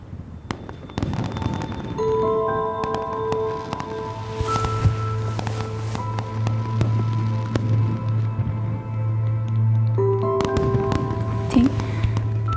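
Fireworks go off in a sequence of popping bursts and crackles, loudest near the start and end, under a sustained musical backing with voices nearby.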